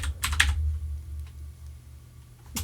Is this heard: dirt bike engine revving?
no